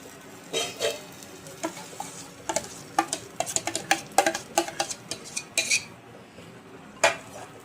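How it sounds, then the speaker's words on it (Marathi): Smashed pav bhaji vegetables stirred and sautéed in oil in a pan, with a metal spoon clinking and scraping in quick irregular strokes over a soft, steady sizzle, close and with no voices. "आणि छान परतवून घेऊ"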